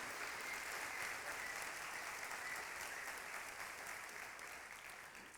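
A church congregation claps together in celebration during a sermon, a steady, full wash of applause that slowly fades toward the end.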